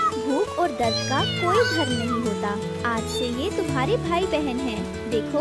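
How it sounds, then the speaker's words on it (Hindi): Cartoon kittens meowing repeatedly in high, pitch-bending cries over a musical score, while a voice speaks throughout. "बिल्ली के बच्चे म्याऊं करते हैं"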